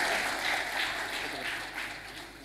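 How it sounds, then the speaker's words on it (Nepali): Audience clapping at a Fewa Idol talent show after a Terai dance performance, a moderately quiet wash of applause that gradually fades toward the end. "सबैले एकचोटि यसलाई ताली दिनुहोला"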